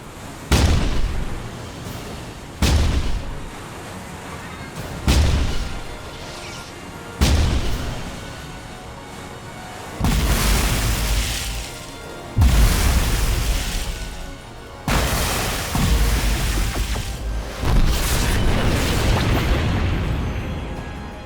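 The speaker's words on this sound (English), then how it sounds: "Give me a spread on the 5-inch guns." Naval 5-inch guns fire in a movie battle scene, a series of about nine heavy booming shots spaced roughly two to three seconds apart, each with a long rumbling decay, loud and without talk.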